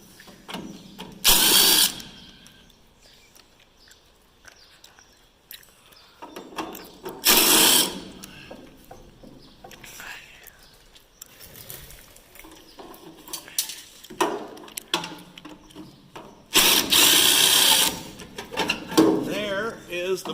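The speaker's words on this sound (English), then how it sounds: "We'll take those bolts out now." Bolts being loosened from a combine's blower motor, with three loud bursts of ratcheting wrench clicks spaced several seconds apart and quieter mechanical handling and low talk between them.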